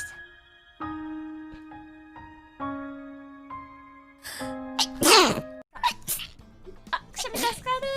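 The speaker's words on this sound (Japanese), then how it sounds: "くしゃみ助かる。" A woman gives a single loud, close sneeze midway through, with quick breathy gasps and sniffles around it, while soft piano-like tones play in the background and her voice is heard before and after.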